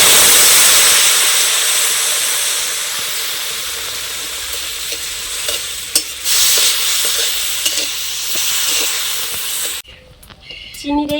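Sugar and a little water cooking into caramel in a pan: a loud, close, continuous bubbling hiss that slowly fades, with occasional stirring clicks and no talk.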